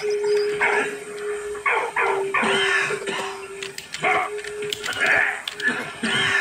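A dog in the video game Valiant Hearts: The Great War barks and yips in short repeated bursts over game sounds and a steady background tone.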